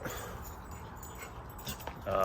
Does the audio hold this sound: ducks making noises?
no